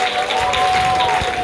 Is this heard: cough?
no